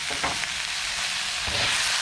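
A loud, steady sizzle of vegetables stir-frying in a hot wok, with brief scraping bursts as they are tossed and stirred.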